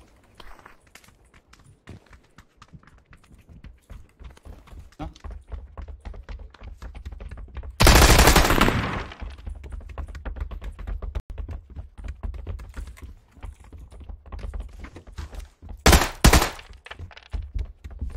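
Machine-gun fire in a video game comes in two loud, sharp bursts, one near the middle and a shorter one near the end, over a constant bed of quick clicking and tapping.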